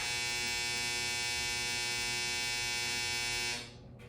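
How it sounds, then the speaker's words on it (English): Home clothes dryer buzzing at a steady, even pitch for several seconds, a loud constant drone that then suddenly drops away to quiet. "That's my dryer."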